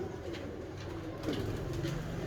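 A pure-blooded Habshi breed pigeon coos softly in a loft, with low repeated throaty calls that repeat close by and carry no speech.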